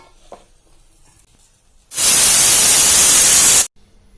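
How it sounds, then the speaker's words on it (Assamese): A pressure cooker on a gas stove lets out one loud, close burst of hissing steam lasting about two seconds, with quiet room sound before and after and no talking. "কুকাৰটো এতিয়া গেছত তুলি 3টামান চিটি মাৰিবলৈ দিম"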